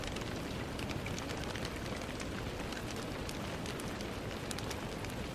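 Steady rain pours down without a break, a dense even hiss with scattered sharper drop ticks on surfaces, continuous and close, no voices.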